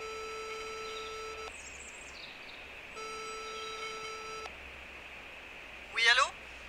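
A telephone line tone sounds twice in long, even beeps separated by a pause. It is fairly faint and ends with a brief chirpy burst.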